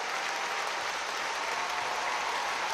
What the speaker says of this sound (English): more rapturous applause from the Russian fans